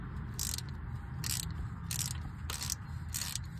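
A hand ratchet with a 7/8 socket is worked on a fitting of a first-generation 12-valve Cummins truck, giving five short metallic clicking bursts in a steady rhythm over a low background hum.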